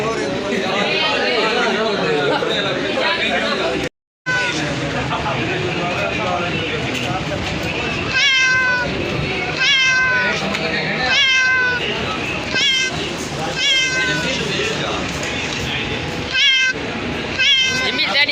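A cat meows in repeated short, rising calls, close and clear, while people chatter throughout.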